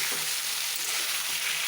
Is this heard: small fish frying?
yes